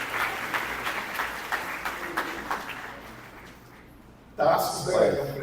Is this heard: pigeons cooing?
no